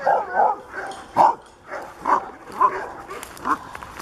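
Sled dogs bark in a rhythmic series of sharp yips and barks, about eight in four seconds, at moderate distance and mixed with faint whines.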